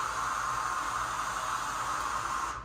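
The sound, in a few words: DJ white noise sample triggered on DDJ-FLX10 controller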